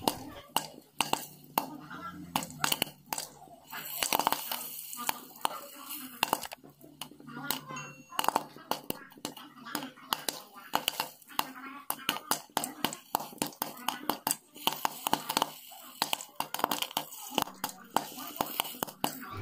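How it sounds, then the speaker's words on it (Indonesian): Corn kernels pop in a regular wok, sharp irregular cracks and ticks scattered close and loud throughout, with occasional clinks against the pan and brief soft speech. "biarkan popcornnya sampai popping atau melompat-lompat jagungnya ya, seperti ini"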